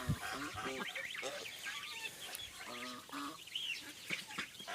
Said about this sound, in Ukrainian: а вони кваконять, щоб їх випустити